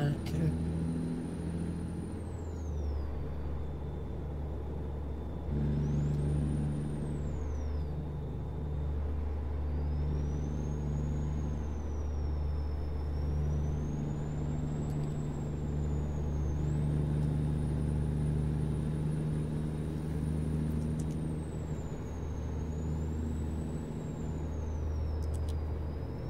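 A small truck in American Truck Simulator drives with a steady low engine drone and rumble, its pitch shifting as it changes speed, under a continuous whine.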